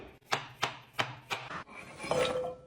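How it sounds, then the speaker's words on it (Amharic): Carrots chopped roughly with a knife on a board for a carrot cake: four crisp, evenly spaced cuts, followed by a softer scraping, rustling sound. "በሃንድ ብሌንደር ስለምንፈጨው ለመፍጨት አነሳ አድርገን እንከትፈዋለን።"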